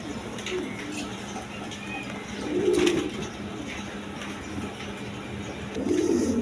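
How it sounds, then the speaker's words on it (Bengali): A pair of pigeons, a Huma hen and a Danish cock, give soft, low cooing calls in a few short bursts against a quiet, faintly noisy background. "দর্শক এইখানে আরেক পেয়ার কবুতর আছে মাদিটা হইলো হুমা আর নরটা হইলো ডেনিশের"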